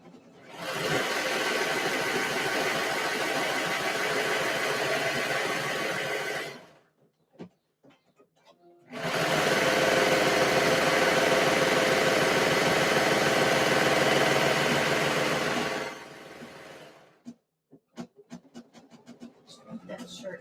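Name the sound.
sewing machine stitching fabric for skirts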